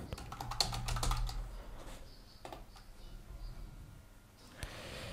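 Quick keystrokes on a computer keyboard come in a short burst of close clicks, then a few scattered taps over a quiet room hum.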